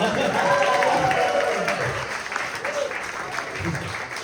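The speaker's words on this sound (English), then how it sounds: "y'all keep that applause going for my grandpa" Comedy-club audience applauds during a stand-up set, sustained dense clapping from a crowd near the microphone while a performer talks over it.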